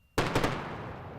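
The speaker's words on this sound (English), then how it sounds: "a sonic boom passes across the Florida Space Coast as the Falcon 9 first stage" The returning Falcon 9 first stage sets off a sonic boom over the Florida Space Coast, heard as a sudden loud double crack, closely spaced, that rolls away into a fading rumble.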